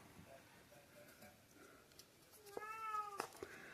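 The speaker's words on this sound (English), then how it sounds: "She's still meowing." A cat meows once, loud and drawn-out, near the end, after quieter rustling and faint background sounds.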